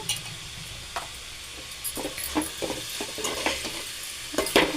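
Spice tempering sizzles in hot oil in a home kitchen pan, a continuous soft hiss broken by repeated clicks and scrapes from a stirring spoon, close and without speech.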